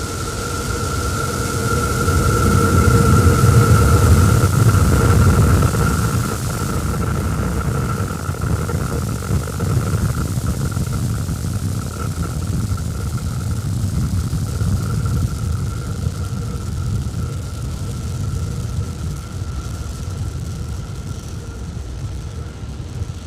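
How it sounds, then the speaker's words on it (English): SpaceX Starship SN11 test vehicle lifting off and climbing over Starbase, South Texas: a continuous heavy, broad rumble with a steady tonal hum, strongest early and easing slightly as it ascends, with no voices. "Starship Test Vehicle number 11 ascending over Starbase in South Texas."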